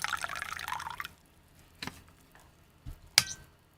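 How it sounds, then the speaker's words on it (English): Water or tea is poured into a cup in a quiet room. A brief, close splashing pour lasts about a second, followed by a few sparse drips and small clinks. "I see water or tea pouring."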